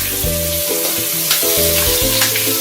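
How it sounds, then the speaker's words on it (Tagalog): Food sizzles and fries loudly in a pan being sautéed at a roadside, a steady close hiss with stirring scrapes and a repeating low hum underneath. "Magigisa tayo sa gilid ng kalsada."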